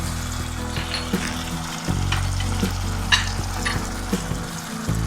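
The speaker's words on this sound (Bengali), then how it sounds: "এবার আমি মশলাটা একটু আগে ভালো করে কষিয়ে নিচ্ছি।" Ginger paste, chili, coriander, cumin and turmeric powders with tomatoes fry in a pan for a Bengali fish head and cabbage dish, a steady close sizzle broken by a few scraping stirs.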